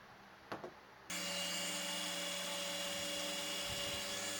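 A Dremel rotary tool with a cutting wheel scores the steel jaw of a vise, a loud steady high-pitched grinding whine that starts abruptly after a brief quiet knock and runs continuously to the end, with no talking.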